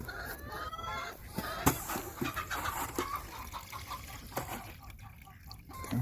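Backyard homestead chickens cluck and murmur softly at a moderate distance, with a few sharper calls and outdoor background noise.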